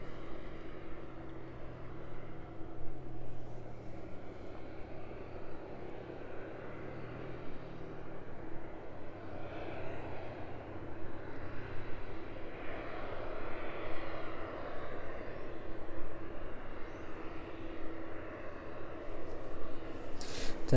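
A parked airliner at East Midlands Airport readies for pushback in the evening, its engine or ground power unit giving a steady, moderately loud drone with low tonal hum throughout, no voices over it.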